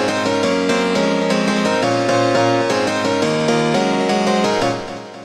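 FL Keys piano plugin in FL Studio 20 after processing, playing a dense run of chords and moving notes with a fuller, fairly loud sustained tone, fading out at the very end with no voices.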